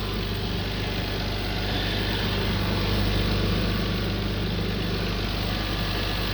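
A Toyota Mark II engine runs steadily, a loud, even mechanical drone and rumble heard close and continuous with no pauses.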